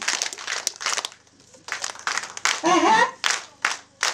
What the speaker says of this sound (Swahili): hiyo makofi ilikuwa ni yako